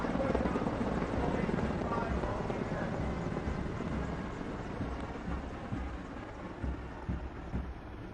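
Military helicopters flying in formation at India's Republic Day Parade thud in a heavy, continuous rotor drone, loud and steady throughout, with faint talk beneath.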